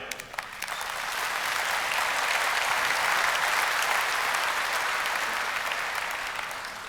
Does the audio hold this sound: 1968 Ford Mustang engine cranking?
no